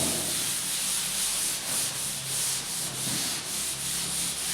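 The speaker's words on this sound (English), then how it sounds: "I'm going to use a cloth because it rubs out better" A cloth rubs back and forth across a board to wipe out written maths sums, a close, steady swishing in rhythmic strokes that continues without speech.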